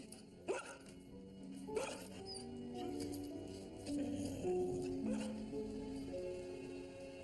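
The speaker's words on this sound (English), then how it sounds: "You be a good dog, now." A dog gives a few sharp barks early on, then whimpers and whines in rising, drawn-out tones, close by and alone without speech.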